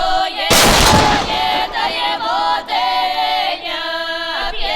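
A single loud weapon blast cracks out near the start and rings off, followed by a steady electronic whine and tones.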